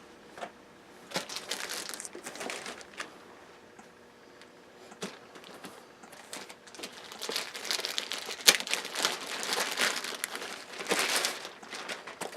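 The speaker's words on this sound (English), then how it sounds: "Here's the new plastic packaging." Plastic packaging for a Legacy PA speaker set crinkles and crackles as it is unwrapped, in a run of irregular close bursts that grow busier and louder toward the end.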